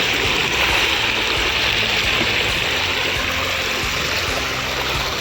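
Rushing flash flood water, a loud, steady broadband roar and wash of fast-flowing water that continues without a break and covers everything else.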